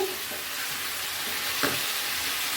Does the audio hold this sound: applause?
no